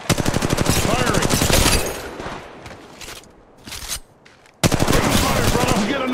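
Gunfire in a squad-based shooter game crackles in rapid automatic bursts. A loud stretch of shooting gives way to quieter scattered shots, then a heavy burst kicks in again.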